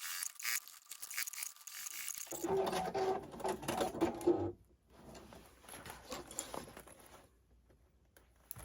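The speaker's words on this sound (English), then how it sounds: "we're going to take it to the machine one more time and just edge stitch this bias tape in place" A sewing machine edge stitching bias tape in place, running in a rapid mechanical whir for a couple of seconds, then stopping, followed by quieter handling noises.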